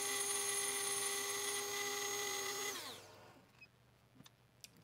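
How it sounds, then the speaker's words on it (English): A metal lathe running slowly during a spin indexer build, a steady whining hum with layered tones that winds down and stops about three seconds in, leaving quiet workshop clicks and taps. "And just running the lathe slow here."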